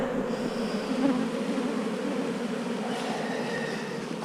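Honey bees buzz around an open hive in humid Florida, forming a dense, steady droning hum close by, with individual bees whining past now and then.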